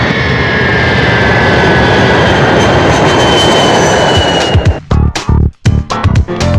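A passenger airplane drones loudly and steadily as if heard from inside the cabin, then the roar gives way to choppy, broken noise near the end, with no voices.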